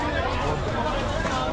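Dense crowd noise at the Tejgaon cattle market in Dhaka, a constant loud wash of many voices with no break, as cattle are unloaded nearby.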